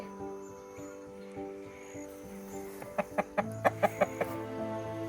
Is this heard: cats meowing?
no